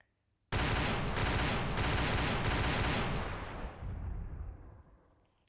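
Rapid automatic gunfire from weapons in the Roblox game Brookhaven, a loud sustained burst of rattling shots with a few brief pauses, trailing off into a fading rumble, with no talking.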